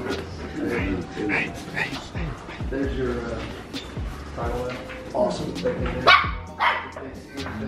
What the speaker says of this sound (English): Look at that little dog.